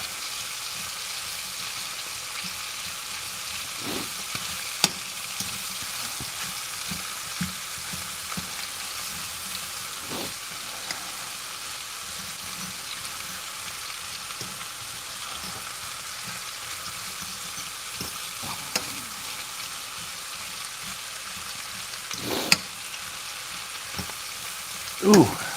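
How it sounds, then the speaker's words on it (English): Sausages and onions fry in a pot for chicken bog, a steady broadband sizzle running throughout with occasional soft knocks and scrapes of stirring, moderately close and fairly even in level. "Give all these sausages and onions a stir."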